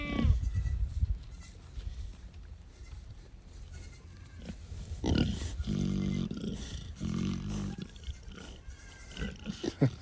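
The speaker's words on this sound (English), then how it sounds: "look at the goat pen and see who's yelling over here" Goats bleat and yell from a farm pen, several loud overlapping calls from nearby mixed with rustling and handling noise across ten seconds.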